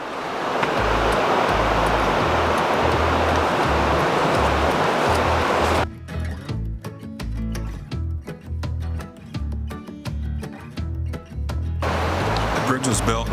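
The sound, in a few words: Elwha River flowing below the bridge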